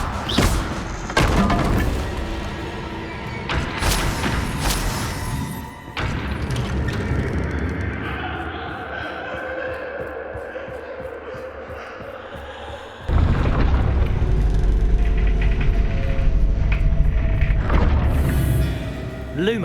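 Fiery Confringo spell blasts in Hogwarts Legacy, with booming impacts and thuds landing amid other spell effects and combat noise, loud and layered, including a heavy sustained blast later on.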